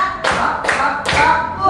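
Children clap three times in unison during a counting clapping game at a kindergarten, three crisp, evenly spaced claps close by with no talk between them.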